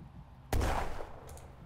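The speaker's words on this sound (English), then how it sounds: "We have our light mortar here" A light mortar fires once in a World War II strategy game with the 8th Armoured Brigade, a sudden loud boom followed by a rumbling decay and faint distant echoes.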